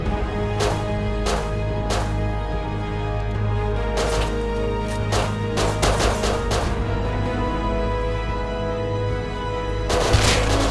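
Gunfire in the survival game Rust, scattered single shots and short volleys cracking at irregular intervals over a steady low hum of background ambience, with a final loud burst near the end.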